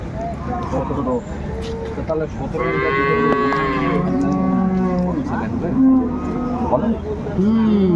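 Dairy cows low repeatedly at the Ambari cattle market in Dinajpur, with several drawn-out, rising and falling moos overlapping one another. Market chatter and voices run underneath throughout.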